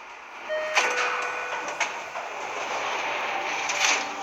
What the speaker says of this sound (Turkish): Asansöre bindim ve gidiyorum.